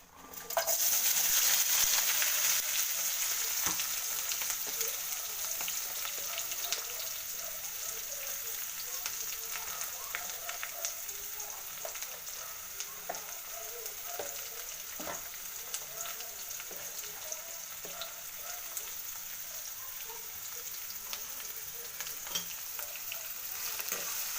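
Garlic, onion and mustard seeds tempering in hot oil in a pan for raw banana palya give a loud, steady, close sizzle that runs throughout with no talking.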